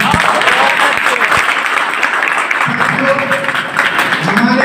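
An audience at a Republic Day speech claps loudly and continuously, a dense wash of applause close by, while a voice carries on underneath it.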